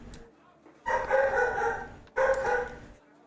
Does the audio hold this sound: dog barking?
yes